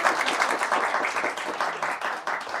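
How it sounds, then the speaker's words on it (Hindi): Audience applause at a Hindi poetry and ghazal recital, a dense burst of clapping with individual claps standing out in an uneven rhythm, continuing throughout at a lively level. "थोड़ा और तालियां बजा दीजिए"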